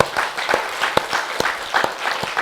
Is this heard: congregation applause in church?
yes